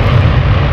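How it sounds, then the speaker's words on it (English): Helicopter in a co-op military shooter game, a low steady rotor and engine drone heard loud and continuous with no talk over it. "Helicopter coming."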